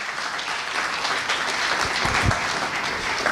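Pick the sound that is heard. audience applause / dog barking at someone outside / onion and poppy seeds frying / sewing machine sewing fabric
audience applause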